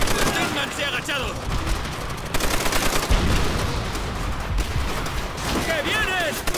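Dense bursts of gunfire crackle almost without pause, with rapid automatic shots and explosions, while shouting voices can be heard under the noise, in the video game Call of Duty: World at War.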